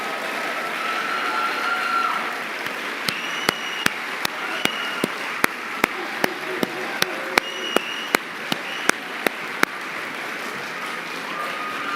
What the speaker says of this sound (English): Will you please join me in honoring him with applause as he comes to receive his award?